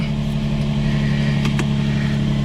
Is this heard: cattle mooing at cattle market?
no